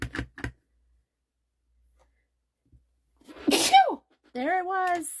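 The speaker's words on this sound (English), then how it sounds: "I told you I was going to sneeze." A single sharp sneeze bursts out mid-clip during a craft session making a pumpkin punch card with leaf stamps, preceded by brief speech and followed by a short voiced exclamation.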